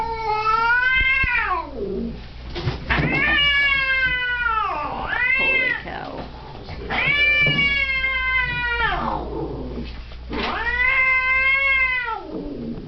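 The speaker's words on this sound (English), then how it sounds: "Today we're going to deal with an angry cat." An angry cat at a veterinary visit yowls in long, drawn-out wails, four loud rising-and-falling cries close by separated by short pauses, with a brief exclamation from a person.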